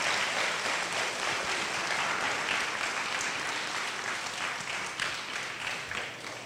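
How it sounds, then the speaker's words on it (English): Audience applause at a press conference for a home fire drill event, a dense, steady wash of clapping that holds for several seconds and slowly thins toward the end. "Can we do one last round of applause and thank all of our guests that are here today?"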